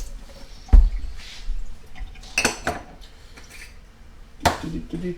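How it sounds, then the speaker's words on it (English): Knife work on a red pepper at a home kitchen counter while making turkey lasagna, with a few sharp clacks of the blade on the cutting board and softer scraping and clinking in between. "Okay, I'm going to cut up this red pepper too."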